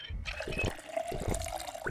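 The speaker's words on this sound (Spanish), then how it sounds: "vamos a tomar un poco de agua" Water pouring and splashing as a character drinks in the zombie survival game Project Zomboid, a short liquid gurgle with small drips, close and alone.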